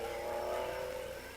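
A 1955 Pau Grand Prix race car accelerates through the Virage de la Gare station-house turn, giving a steady, fairly loud engine drone that holds and then eases slightly near the end.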